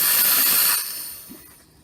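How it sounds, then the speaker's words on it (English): A Gaggia Classic Pro espresso machine steam wand purges steam in a loud, close hiss that fades after about a second into a quieter trailing sputter. "put some more steam out"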